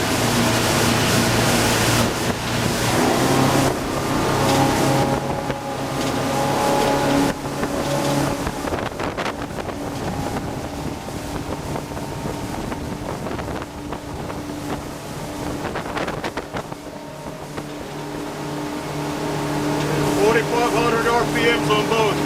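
A 2008 Sea Ray 330 Sundancer motorboat runs at wide open throttle, its engines giving a loud, steady roar over rushing water and gusting wind across the microphone.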